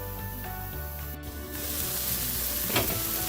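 A beef burger patty, meant for a cheddar bacon croissant burger, sizzles steadily in a hot pan, a continuous close hiss that swells louder and brighter partway through.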